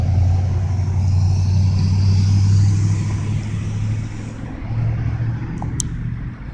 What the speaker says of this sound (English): Oh, that bus not in service.